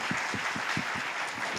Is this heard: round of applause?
yes